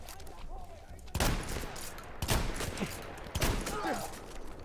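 Gunfire in the Battlefield 1 shooter game, three sharp, loud shots spaced about a second apart over a busy battle ambience with scattered distant firing and faint voices.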